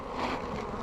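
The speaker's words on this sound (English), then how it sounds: "that bee right there is doing the fanning technique" Honey bees fan their wings at a hive during a rescue from a slippery roof, producing a close, continuous buzzing drone with no voices.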